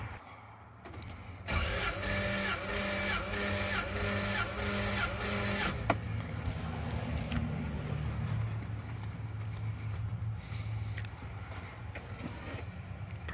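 A 1997 Toyota Land Cruiser's 1FZ-FE engine cranks during a compression test, with the starter churning in a steady, even rhythm for about four seconds before it stops, leaving a low idle hum and a few clicks.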